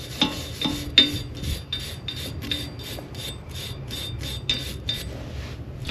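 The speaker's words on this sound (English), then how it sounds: "Then we're going to scrub this area." Brake hub on a 2008 Honda Civic being scrubbed with the rotor off, a close run of short, rhythmic rasping strokes repeating steadily, heard alone without talk.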